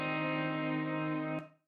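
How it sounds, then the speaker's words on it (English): A single distorted electric guitar strum, EQ'd and delayed, placed behind the listener in a Dolby Atmos mix. The chord sounds darker and farther away, sustains evenly for over a second, then decays quickly with no voices. "EQ'd it and delayed it and put it behind me where it looks like that and it sounds like this."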